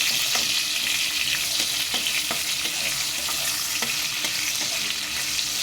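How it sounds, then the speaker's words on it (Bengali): Chopped capsicum stir-fried in a pan for Kashmiri dum aloo, a steady bright sizzle of frying punctuated by soft scraping and stirring clicks at irregular intervals, close and uninterrupted. "ক্যাপসিকামগুলো দিয়ে দিলাম হালকা নাড়াচাড়া করে একটু ভেজে নেবো"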